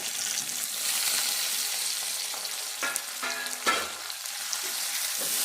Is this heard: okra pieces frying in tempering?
yes